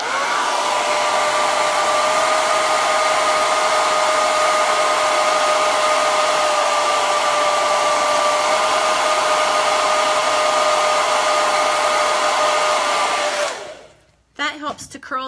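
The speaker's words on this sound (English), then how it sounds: "I'm going to use the hair dryer so that you guys can see." A hair dryer blows with a loud, steady whining roar for about thirteen seconds, then switches off, leaving brief handling noise.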